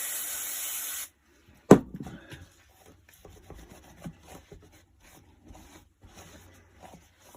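Brake cleaner sprays in a steady, loud hiss for about a second while a part from a Tuff Torq K55e transaxle rebuild is cleaned, followed by a sharp clunk and light scattered handling noises.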